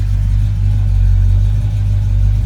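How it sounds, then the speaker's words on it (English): V8 engine of a GTX muscle car idling smoothly at about 750 RPM, a steady low rumble with an even pulsing beat, close and loud with no talk over it. "Give it a crank here. It idles really nice, about 750 RPMs."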